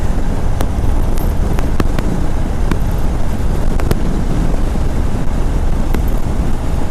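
Motorcycle cruising steadily on cruise control during a Montreal commute, with a continuous loud rumble of engine, road and wind noise and no break in the sound.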